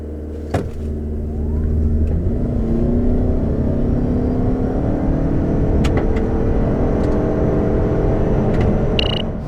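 A 2019 Toyota Avalon Hybrid accelerating hard, its engine note rising into a steady, building drone heard from inside the car, with a low rumble beneath.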